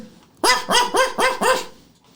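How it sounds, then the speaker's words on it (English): A dog barks behind a locked motel room door: five quick, loud, close barks in a rapid burst, then quiet. "The door to room 3 has dog barking behind it"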